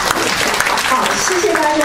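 An audience at a Chinese-language humour speech contest applauds its seven contestants, a dense burst of clapping mixed with murmuring voices and some talk over the top.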